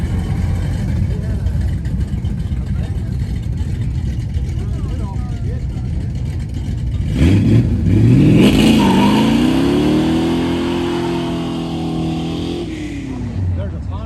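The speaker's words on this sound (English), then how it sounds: "Everybody's out doing their burnouts." Cars rev hard and do burnouts after a car show over Labor Day weekend, with a rough engine rumble rising into a loud, sustained, climbing whine that fades near the end. Talk and crowd noise run underneath.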